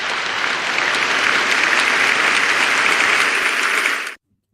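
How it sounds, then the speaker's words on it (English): Dense, loud audience applause fills the space, sustained and even for about four seconds before cutting off abruptly into silence. "We give you a big applaud."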